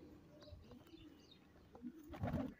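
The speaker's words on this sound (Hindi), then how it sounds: "लेकिन शाम तक की परवाज़ें हैं दोस्तों इस कबूतर की।" A domestic pigeon, kept by a pigeon fancier, coos softly in a few low, throaty notes, faint and fairly close, growing a little fuller toward the end over quiet background noise.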